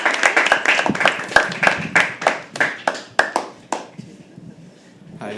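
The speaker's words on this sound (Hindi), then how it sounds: "और तालियां तब तक बजती रहे जब तक अबू स्टेज पे" Audience clapping at a live poetry open mic at The Habitat, a steady round of sharp claps from a small crowd that thins out and stops partway through, leaving a quiet room.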